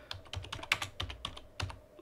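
Quiet, close computer keyboard typing of a Linux install command, a short run of crisp, uneven key clicks over about two seconds with no talk.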